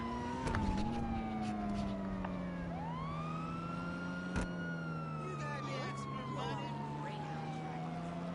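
A police siren in the video game GTA V, wailing and sweeping in long rising and falling tones, loud and continuous over an engine drone, with a brief sharp knock partway through.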